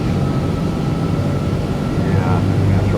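An airplane engine in Microsoft Flight Simulator 2020 drones steadily and loudly as the throttle comes up, a continuous low hum with a faint rising tone near the end.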